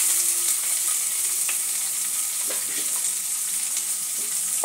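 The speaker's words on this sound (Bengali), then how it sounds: "সব কিছু একটু ভেজে নেব।" Spices and asafoetida frying in hot oil over a medium gas flame for spinach dal, a continuous bright hiss close up with a few faint clinks of a spoon, no talking.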